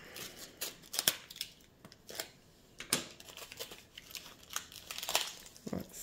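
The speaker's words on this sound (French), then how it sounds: "là, moi, il me faut une cutter" A utility cutter slicing through tape on taped-together diamond painting packaging, heard as a run of separate close, crisp scratching and tearing strokes with brief pauses between them.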